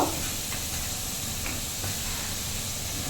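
Beans dropped into a hot pan of lightly fried carrots give a steady, even sizzle and hiss that carries on throughout, with a few faint clinks of stirring over it.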